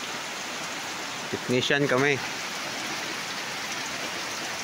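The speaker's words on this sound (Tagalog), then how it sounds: "Yan, umuulan." Steady, heavy typhoon rain hisses throughout, while a person speaks briefly in the middle over the downpour.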